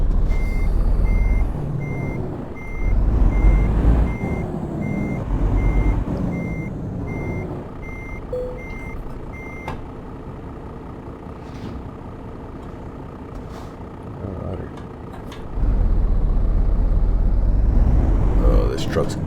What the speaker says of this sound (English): Truck's grumbling already.